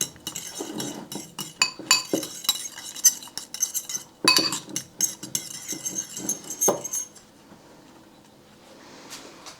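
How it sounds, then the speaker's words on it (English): A mixture is stirred round in a container for a Portuguese Quinta renovation, giving busy scraping and clinking strokes in quick irregular bursts, close by, before fading to a quiet hiss. "I'm going to give that a really good stir round"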